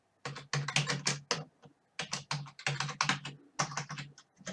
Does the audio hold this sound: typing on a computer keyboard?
yes